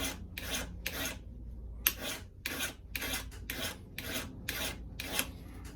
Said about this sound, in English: you can sharpen them quick. Now I'm not using a super fine file